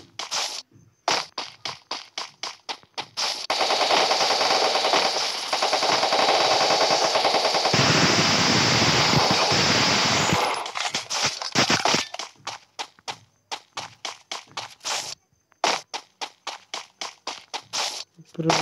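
Machine gun fire in the Free Fire video game: rapid, loud, close bursts of repeated shots, including a long sustained stream of fire, with little talk.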